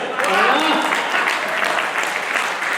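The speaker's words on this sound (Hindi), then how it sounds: "थोड़ी बहुत तालियां बच गई।" Audience clapping at a Hindi comedy poetry gathering (hasya kavi sammelan), a steady burst of applause lasting about three seconds, with a voice speaking faintly over it near the start.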